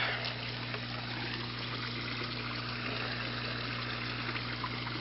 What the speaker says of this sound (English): Getting a nice amount of bubbles. Agitating the surface.